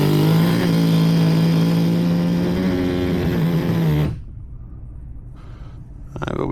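An RC nitro funny car engine runs with a steady, high-pitched buzzing drone for about four seconds, then cuts off abruptly, leaving quiet background noise.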